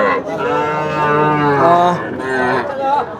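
Loud, drawn-out cattle moos, several overlapping bellows close by, with the steady murmur of the crowded Pikna cattle market in Sarishabari, Jamalpur, Bangladesh behind them.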